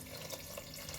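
Water pours steadily into a cooking pot while preparing wheat rava mutton keema kanji, a brief continuous splashing stream close by.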